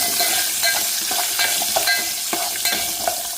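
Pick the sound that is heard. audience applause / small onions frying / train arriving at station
small onions frying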